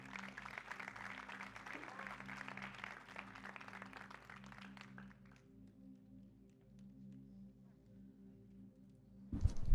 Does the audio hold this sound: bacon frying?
no